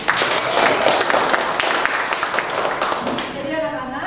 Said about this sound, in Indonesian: Beri tepuk tangan untuk Fahri.